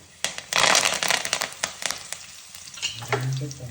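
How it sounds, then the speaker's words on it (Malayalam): Curry leaves and dried red chillies hit hot oil with a sudden loud burst of sizzling and popping that crackles on briefly, then settles to a quieter fry. No one speaks. "രണ്ട് തണ്ട് കറിവേപ്പിലയും നാല് വറ്റൽമുളകുമാണ് ഇട്ട് കൊടുത്തത് അതൊന്ന് വഴന്ന് വന്നു"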